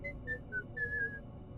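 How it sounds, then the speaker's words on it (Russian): Eerie whistling outside a window, a thin wavering tune of a few short sliding notes and one longer held note, fairly faint over a low background hum. "насвистывание, доносившееся с другой стороны окна, стало невыносимо громким"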